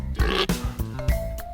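A cartoonish pig oinks in a few quick grunting bursts in a children's animal drawing game, close and clear.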